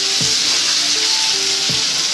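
Tomatoes sizzling in a hot pan of oil while cooking a Telugu punugulu curry, a loud steady hiss of frying close up, with a couple of soft stirring knocks.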